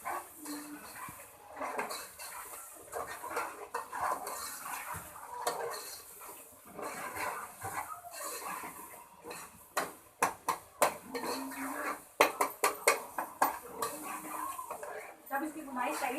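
Keema masala stir-fried (bhuna) in a pan with tomatoes, the spatula scraping and clattering against the metal in a steady, irregular rhythm that grows into sharper repeated knocks, with a voice talking over it.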